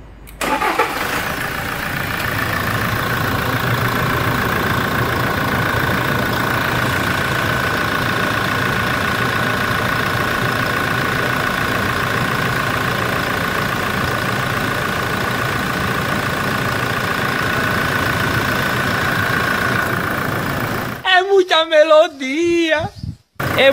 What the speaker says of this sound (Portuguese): Esse som de motor, eu vou falar pra vocês, é nota 10